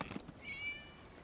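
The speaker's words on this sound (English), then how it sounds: "It was just a cat." A cat meows once inside a video game, a short, thin, rising-then-falling call standing alone over quiet background, with no talking.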